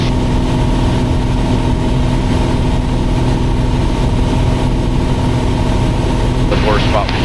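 Piper Cherokee Six piston aircraft engine holding a steady 75% power cruise, a loud continuous drone with a low hum that fills the cabin and stays constant throughout.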